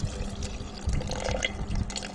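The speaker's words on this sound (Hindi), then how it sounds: "इसमें ऐड करने लगी हूँ पानी।" Water pours steadily into a juicer jar while a fruit sharbat is being made, a continuous close splashing and gurgling fill with no talk over it.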